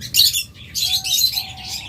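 Diamond doves and other small birds chirp and tweet in quick bursts, with soft thin whistled calls between, close by in an aviary.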